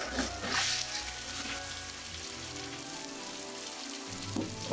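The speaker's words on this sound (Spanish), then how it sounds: "y dejamos cocinar nuestra cebolla." Chopped onion frying with golden garlic in a pan while preparing salt cod, a steady loud sizzle with brief stirring scrapes, close and continuous throughout.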